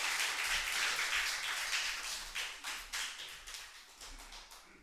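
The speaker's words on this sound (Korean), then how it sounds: "박수로 한번 맞이하겠습니다" A church congregation applauds to welcome a visiting pastor to the pulpit, with loud, dense clapping at first that thins into a few scattered, individual claps and fades by the end.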